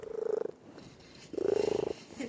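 A pet cat named Skittis purring close to the mic in two rhythmic bursts with a short pause between them, soft and steady with no talking.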